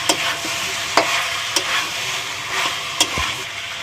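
Chicken pieces and a whole garlic bulb fry in a hot pan for a jolpai chicken curry, a steady sizzle broken by several sharp scrapes and knocks of stirring, close and fairly loud, with no talk.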